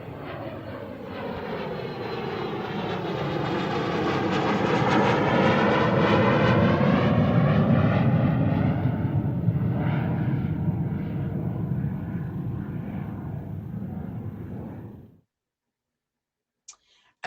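Jet airplane sound effect set off by a stream alert: a loud, sustained engine roar swelling over about fifteen seconds and then cutting off abruptly, followed by near silence and a faint click.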